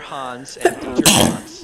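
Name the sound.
sneeze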